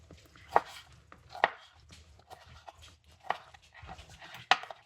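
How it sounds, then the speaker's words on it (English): A tomato being chopped with a knife, irregular crisp taps against a cutting board, close up, with a dog panting and whimpering softly nearby. "Let me chop up this tomato."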